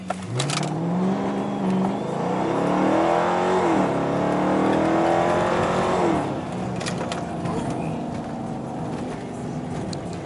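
A 2015 Dodge Charger R/T on 26-inch Forgiato wheels accelerates hard through a 0-60 run on a rough road, its engine note climbing steadily through rising revs, loud and close for several seconds before easing off.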